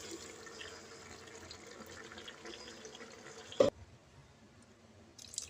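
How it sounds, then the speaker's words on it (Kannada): Water is poured into chicken cooking with ground masala in a pan, making a soft, steady trickling wash. A sharp metallic clank follows, then near-silence with a faint knock at the end. "ಇವಾಗ ಸ್ವಲ್ಪ ನೋಡಿ ನೀರು ಹಾಕ್ಕೊಳ್ತಾ ಇದ್ದೀನಿ ಫ್ರೆಂಡ್ಸ್."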